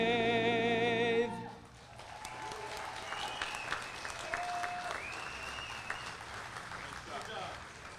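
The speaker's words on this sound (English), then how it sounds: "Let's give a nice round of applause for the 102nd Band of the Army, Connecticut Army National Guard." Outdoor audience applause for an Army National Guard band at an anniversary parade and drum corps performance, scattered clapping following a brief sung ending, with a speaking voice over it.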